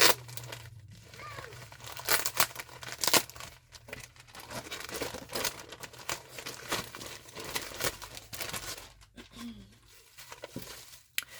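A stuffed paper bag holding handmade journal supplies is handled up close, giving irregular crinkling, rustling and crackling paper sounds, with quieter pauses between bursts.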